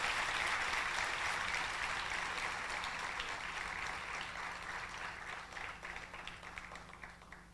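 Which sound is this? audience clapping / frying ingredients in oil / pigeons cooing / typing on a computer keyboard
audience clapping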